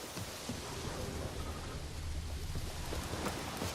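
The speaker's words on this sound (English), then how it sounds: "It's raining, it's pouring, Emperor Mirror snoring." Steady rain hisses in The Witcher 3: Wild Hunt while low thunder rumbles faintly beneath, a dense, quiet wash of noise with no voices.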